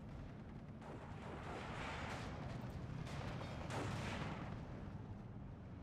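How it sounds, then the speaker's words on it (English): Mortar shells explode in Steel Division 2 as a faint, continuous distant rumble of blasts that blend into one rolling wash of low booms. "Mortar coming in. Nice hit there."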